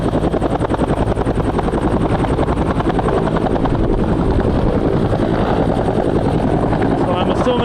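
A reconnaissance helicopter flies over a forest fire, its rotor chopping loud and steady throughout with a continuous engine whine.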